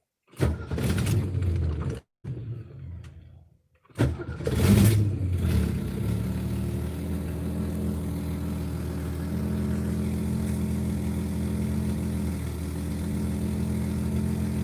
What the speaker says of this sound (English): This starts the car.